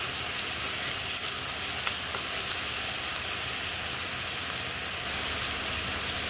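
Lamb and pomegranate kebab skewers sizzle steadily on a hot grill or pan, a constant close frying hiss with a few faint clicks as they are turned, no voices.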